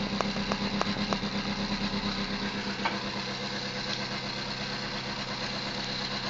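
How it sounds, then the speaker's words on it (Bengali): A single-engine boat motor chugs at a steady idle-like pace, a continuous mid-pitched drone with a few sharper knocks early on. "এক ইঞ্জিনের নৌকা যে চলতা আছে"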